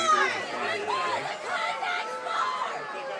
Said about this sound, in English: So if you can hear as we're picking up the crowd as we're sitting in the stands tonight